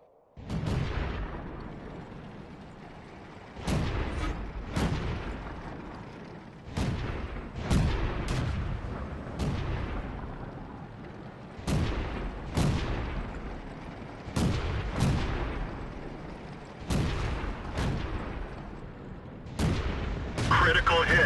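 A French 105 leFH18B2 artillery piece in the World of Tanks game fires repeatedly on the Airfield map, a dozen or so heavy booming shots at irregular intervals, each with a long rumbling decay.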